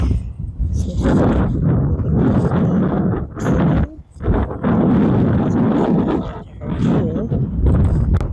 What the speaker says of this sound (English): It's super windy, and that's all you hear is wind.